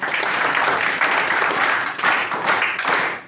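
Students in a classroom clap for a classmate's answer, a dense burst of applause that swells and dips over a few seconds, close and loud.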